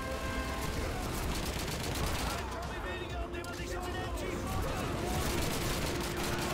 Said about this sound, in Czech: To je granáty.